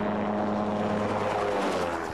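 A gyroplane's spinning rotor and propeller engine make a continuous, even droning hum with steady tonal lines, heard at moderate distance without voices.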